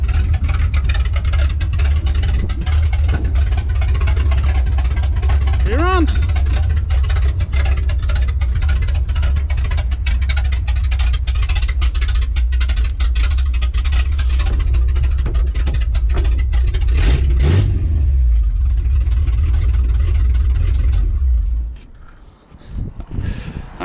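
The swapped engine of an off-road Dodge W100 truck runs with a loud, steady low rumble for about twenty seconds before cutting out abruptly near the end.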